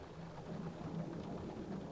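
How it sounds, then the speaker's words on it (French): An airplane passes overhead, heard from inside a car as a steady, muffled low roar with a broadband rush that holds throughout, fairly faint, with no talking. "Ah non, c'est un avion en fait."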